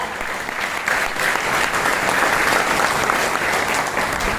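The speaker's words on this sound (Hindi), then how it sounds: "मैं चाहूंगी जसवीर सर के लिए एक जोरदार तालियां।" Sustained audience applause at an award event, a dense steady clapping from a large crowd, loud and continuous throughout with no speech over it.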